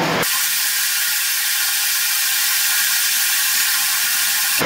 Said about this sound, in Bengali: এবার ভেজে রাখা মাছগুলো দিয়ে দেবো।